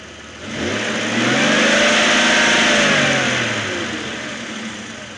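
A Jeep engine runs and revs, a steady mid-pitched rumble that climbs into a rising rev, holds, then eases back toward idle, loud and close with no voices.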